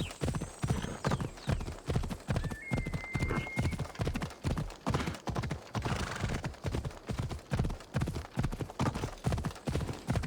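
Horse hooves clip-clopping at a steady trot while riding in Assassin's Creed Odyssey, a close, regular run of sharp hoof beats throughout, with a brief high tonal game sound layered partway in.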